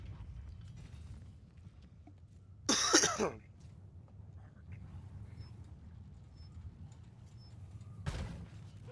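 A cannon fires to blast open a wall in the video game Vermintide 2, giving one loud, short boom with a rumbling tail, then a second softer burst a few seconds later over quiet game ambience.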